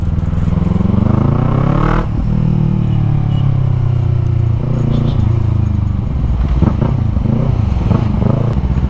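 Yamaha MT-03 motorcycle ridden at high revs, engine droning loud and steady throughout with a pitch rising and falling as it accelerates, a brief dip near two seconds, and talk heard over the engine.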